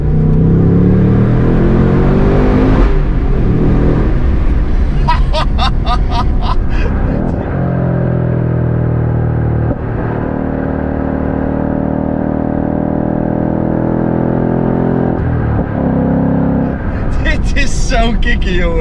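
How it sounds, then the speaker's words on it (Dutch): A Ford Mustang Dark Horse engine with 540 Nm of torque accelerates hard inside a road tunnel, its loud rising roar swelling and echoing over about nineteen seconds, with short gear-change breaks between pulls. "540 Nm aan koppel heel eventjes het vermogen los te laten in een tunnel"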